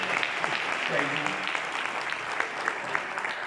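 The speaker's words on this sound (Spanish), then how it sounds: "Un aplauso al Mr Byron Nelson." An audience at a training seminar claps in a burst of dense applause that lasts throughout, with a speaking voice mixed in over it.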